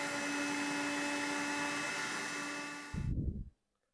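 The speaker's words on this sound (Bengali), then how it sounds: "এখন আমি ব্লেন্ডার করে নেব।" An electric blender whirs loudly and steadily while grinding green chilies with sidol (fermented dried fish) into a paste, then winds down and cuts off abruptly with a brief low rumble at the end.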